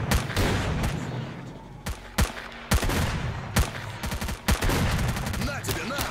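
MP5 gunfire in S.T.A.L.K.E.R. Clear Sky: sharp, loud single shots fired at irregular intervals, with a few quick double shots, set against a dense, noisy game background.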